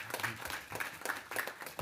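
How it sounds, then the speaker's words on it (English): Graduates at a 2021 university MBA graduation ceremony applaud themselves, with faint, distant, dense clapping that continues evenly throughout. "please give yourselves a round of applause"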